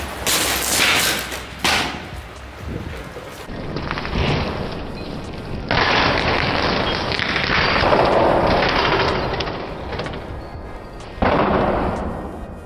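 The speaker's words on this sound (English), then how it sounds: "We have decided to destroy the vial with the remnants of liquid cesium by throwing it onto" A vial holding leftover liquid cesium, thrown onto a wet surface, reacts with the water in a series of loud, crackling bursts and roaring blasts lasting several seconds.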